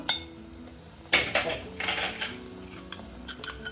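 A spoon scrapes and clinks against a pan while ground spices and garam masala are stirred into an egg masala curry, giving a run of close, uneven metallic scrapes and taps with no talking.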